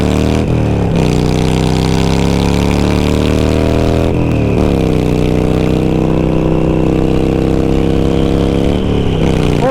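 A Harley-Davidson Sportster fitted with loud aftermarket pipes pulls hard through the gears, its engine note climbing steadily with brief drops at each shift, loud and close throughout.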